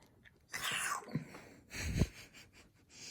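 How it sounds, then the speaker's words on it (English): A soft, breathy sneeze bursts out after a short inhale, close and fairly quiet, with no talking around it. "I'm gonna sneeze."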